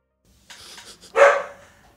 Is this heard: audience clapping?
no